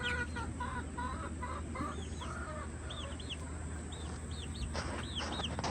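Broody hens cluck in a backyard cattle panel coop, with short repeated clucks and higher chirping calls from chickens and baby chicks scattered over a constant low background hum.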